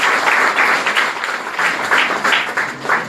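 Audience at a college programme claps together, a dense, steady wave of applause that swells in small pulses and keeps going throughout.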